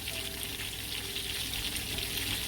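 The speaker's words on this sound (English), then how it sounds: "Make sure everything is in the oil. So it fries evenly." Small fish frying in hot oil, a dense, steady crackling sizzle that stays loud and even throughout with no talk.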